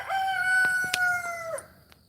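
A rooster crows one drawn-out call, clear and fairly close, followed by a few faint sounds and quiet background.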